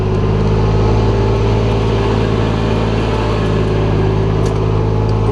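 Steady, loud engine drone of a vehicle idling or driving slowly along a dirt road toward a sawmill, a constant low rumble with no breaks.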